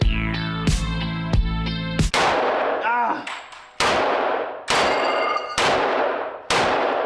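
Loud, sharp gunshots at an elite shooting range pavilion, about eight reports spaced irregularly, each cracking out close and hard with a ringing decay, one shot ending in a metallic ping.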